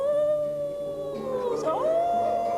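A singer's voice imitates a coyote howl, a long sustained tone that slides and bends in pitch over a piano-like accompaniment in a recital setting.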